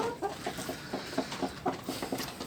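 Chickens in a flooded, muddy coop clucking repeatedly in short uneven bursts, close by and moderately loud, with no talk over them.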